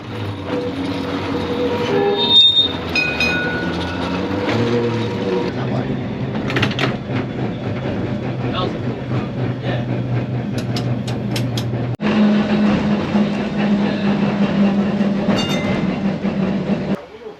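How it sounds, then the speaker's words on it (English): An old-fashioned tram at the Ballarat Tram Museum rolls along its line with a steady low motor hum, rattling mechanisms and clicking wheels on the rails, with brief squeals and clanks along the way, heard from on board. "you also get a free tram ride in an old-fashioned tram"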